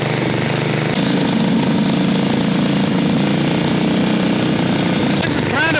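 A Yerf Dog go-kart with a Subaru engine and a carburetor fault runs rough and loud, a steady uneven engine drone with irregular sputters throughout, while people talk over it.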